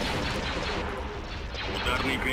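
Weapons fire in the Star Wars: Empire at War: Forces of Corruption space battle: a dense, continuous barrage of overlapping gunshot-like blasts and rumbling impacts that holds steady and loud throughout.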